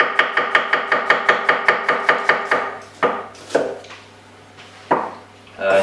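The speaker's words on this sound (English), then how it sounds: "we're just going to slice up these onions nice and fine" A knife slicing onions finely on a board, a quick regular run of about a dozen close chopping taps, then slower, scattered cuts with pauses.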